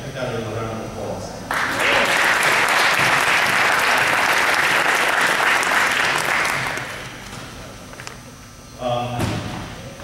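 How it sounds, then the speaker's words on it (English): An audience in a county government meeting room breaks into loud, sustained applause for a teaching award honoree, building for several seconds before tapering off, with a brief burst of clapping again near the end. "I put that in a round of applause."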